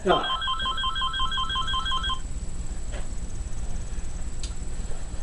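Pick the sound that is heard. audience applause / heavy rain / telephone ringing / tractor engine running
telephone ringing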